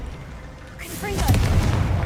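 Confringo spell explosion in Hogwarts Legacy: a deep, booming blast erupts after a brief whoosh and swells into a loud, rumbling roar with crackling debris, close and filling the scene.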